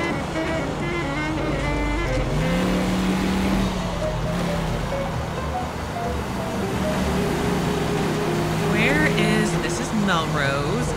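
A car driven around the city in LA Noire hums along with a steady engine drone and shifting pitch, mid-loud and continuous, while a person talks over it.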